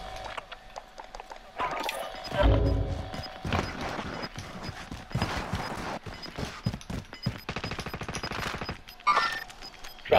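Rapid gunfire in Call of Duty: Modern Warfare crackles in sustained bursts and scattered single shots, fairly close, with a heavy boom early on and continuous combat noise throughout.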